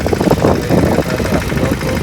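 A tractor engine runs in a soybean field at sowing time, a steady rumbling idle close by with a slightly uneven throb, and a voice speaks over it.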